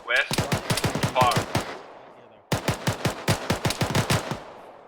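Rapid bursts of automatic gunfire in the ArmA 3 military game, two long volleys of sharp repeated shots separated by a brief pause, loud and close.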